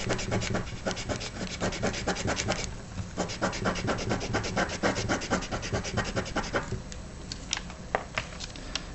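A pencil rubs across the back of a sheet of paper to transfer a drawing, making close, rapid, scratchy back-and-forth strokes in a steady rhythm with brief pauses.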